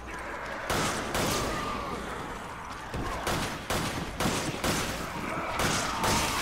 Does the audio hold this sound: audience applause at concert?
no